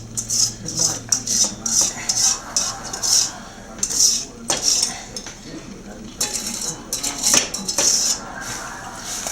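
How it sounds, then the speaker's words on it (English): A whisk beats an egg yolk mixture into boiling milk in a cooking pot for chocolate eclair filling, making rapid, rhythmic metallic clinks and scrapes close up with no break. "Basically, we just have to keep whisking this continually while it cooks for a few minutes."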